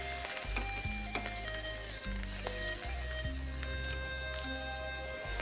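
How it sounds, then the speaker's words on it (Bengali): Fish fries in hot oil in a kadhai with a steady, moderately loud sizzle and spatter, over faint tonal background sounds. "আর এখন আমি মাছটাকে ফ্রাই করে নিব"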